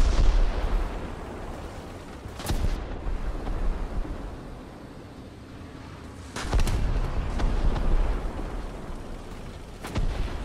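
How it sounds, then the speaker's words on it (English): Artillery fire in the War Thunder tank game, Canadian Ram 2: three distant heavy booms spaced a few seconds apart over a low rumbling battlefield background, no talk. "There goes the artillery."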